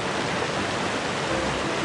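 A river rushes through the forested Los Dinamos ravine in Mexico City, a loud, steady broadband roar of churning water that holds evenly throughout, with no voices over it.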